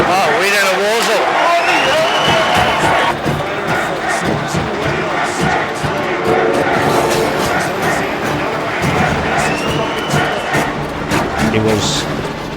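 A large arena crowd chanting USA at a wrestling match, a loud rhythmic roar of many voices filling the space, with a commentator talking over it.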